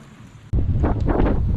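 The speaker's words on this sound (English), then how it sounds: "This clip here demonstrates how windy it was" Loud, roaring gusts of strong wind on Lake Atkins buffeting the microphone, starting abruptly after a quieter moment and staying heavy throughout.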